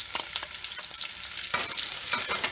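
Onions dropped into a pan with lightly browned garlic, a close, bright sizzle that swells as they hit the hot fat, with stirring scrapes and crackles and no one talking.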